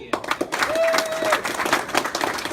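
An audience claps together at a talent or recital event for a 14-year-old singer, a brief burst of applause with a voice audible alongside it.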